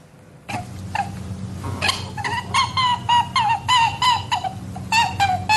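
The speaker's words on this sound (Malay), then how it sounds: "Ini bunyi arnab." Rabbit vocalizing close up, a string of short squeaky chirps and grunts repeating in quick irregular bursts over a low steady hum, with no voices present.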